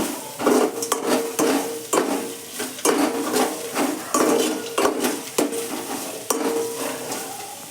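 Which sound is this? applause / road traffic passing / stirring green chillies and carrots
stirring green chillies and carrots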